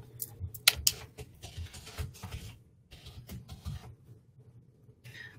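Someone types on a computer keyboard, quick irregular bursts of clicking keystrokes, close and clear, with short pauses between runs and a faint clack near the end.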